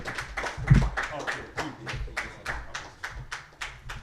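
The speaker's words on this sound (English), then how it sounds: "Let's give him another round of applause." An audience claps in a steady run of sharp, evenly spaced hand claps. The claps are fairly close and moderately loud, and a few low voice-like sounds sit underneath without clear speech.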